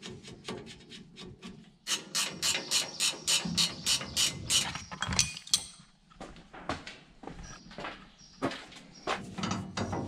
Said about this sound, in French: Je vais terminer le travail, je vais serrer tous les boulons.